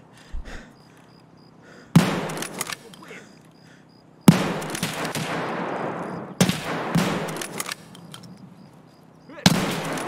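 A firefight with a scav in Escape from Tarkov at medium range; four loud, sharp gunshot bursts ring out at spaced intervals, each leaving a ringing tail, while someone talks between them.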